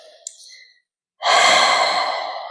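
A slow, breathy exhale during yoga relaxation follows a short pause, loud and close, tapering off gently toward the end.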